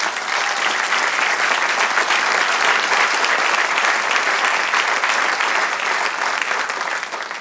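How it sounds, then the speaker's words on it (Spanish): A church congregation breaks into dense, sustained applause, loud and close, filling the space evenly for several seconds before easing off slightly at the end, with no talk over it. "Entonces, sí, dale aplauso."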